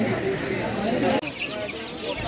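Clucking and cheeping of chicks blend with busy market chatter at a Kolkata street bird market, a short crowded burst of bird calls close by.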